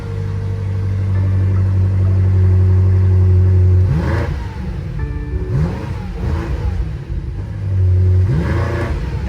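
A used car at a dealer auction, its engine idling at a steady drone, then revving up in a few sharp bursts that swell and fall back, loud and close with no talk.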